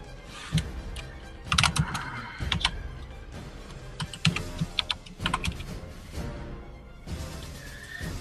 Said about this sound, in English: Typing into the right screen again this time.